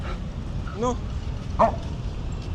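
A dog gives a couple of short, higher-pitched yips and whining barks at close range, aimed at another dog, with a person talking softly over the background.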